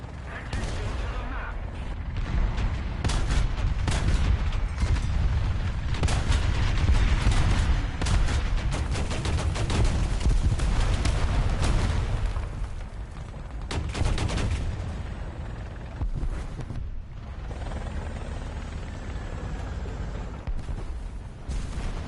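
Gunfire in the War Thunder video game: heavy bursts of shots and booming reports, loud and dense for the first half, then thinning to scattered, more distant cracks.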